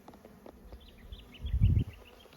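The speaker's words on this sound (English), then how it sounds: "Certainly lots of bees around." A honey bee buzzes close past the hive box of a newly hived swarm, a brief loud swell over a faint background hum of many bees, with a bird chirping faintly.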